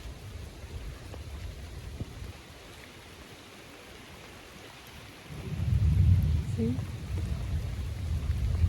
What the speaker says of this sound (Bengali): মেঘ ডাকাডাকি করতেছে, আবার কালো হয়ে বৃষ্টি আসতেছে আকাশ।